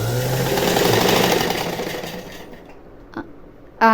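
A sewing machine runs steadily, stitching a fall onto the edge of a saree, with a continuous mechanical whir that fades out halfway through. Brief clicks and a short noise follow.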